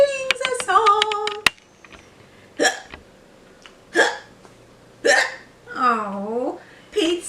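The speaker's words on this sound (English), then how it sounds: "Oh, Pete still has the hiccups." Cartoon hiccups from a kitten character, several short sharp hic sounds spaced a second or so apart, loud and close, following a brief burst of guitar-like plucked notes at the start.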